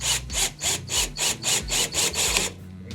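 A power drill driving a screw into wood whirs in about ten short, even bursts, each rising and dropping with brief pauses between, close and fairly loud.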